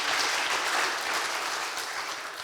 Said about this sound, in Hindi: क्यों ना उसको जोरदार तालियों के द्वारा हम धन्यवाद दें